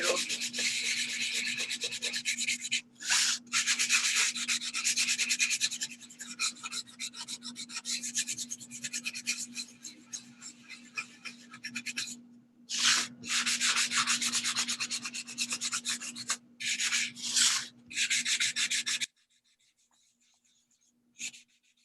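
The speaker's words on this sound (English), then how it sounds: "I also like to sand my edges." Edges of a painted, glued patchwork piece being sanded by hand, close and loud rasping strokes in repeated bursts with short pauses, a steady low hum beneath, ending in near silence.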